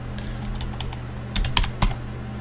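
Fingers type a command into a computer keyboard, a close run of light plastic key clicks that quickens into a brief burst of firmer strikes near the end, with no voices.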